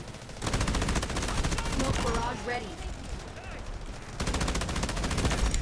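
An M249 machine gun fires in the Delta Force video game, in long rapid loud bursts that break off and resume, with someone talking briefly over the gunfire.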